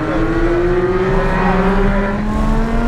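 A supercar powers out of a corner on a race track, its engine note climbing steadily in a loud, continuous rising drone heard from on board, with no talk.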